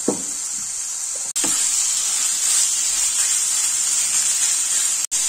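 Chicken sautéing in masala in a pan, a loud, steady sizzling hiss that runs throughout with a couple of brief stir clatters near the start.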